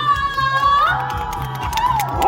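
A live crowd cheers and shouts in bursts at a Christmas show at Everland's Santa Village, loud and continuous with a bright voice line weaving through the noise.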